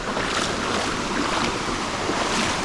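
Morang double waterfall pouring into pools, a loud, steady, broadband rush of falling water close by, with no talking.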